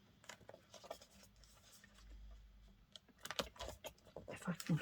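A paper trimmer slices the white edges off a curled digital print, with soft clicks and rustling near the start and a louder burst of sharp cutting and handling sounds toward the end; quiet, close, no talking.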